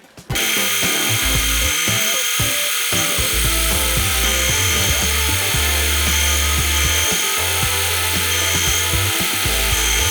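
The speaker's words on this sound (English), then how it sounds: "Maybe I'll give this a bit of a sanding." Continuous harsh, whining grind of a power sander sanding a McDonald's burger bun set in epoxy resin, running steadily for about ten seconds, loud and close, with rough buzzing texture throughout.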